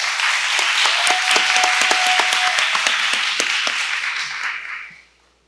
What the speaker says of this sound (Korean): 여러분 큰 박수로 환영을 좀 부탁드립니다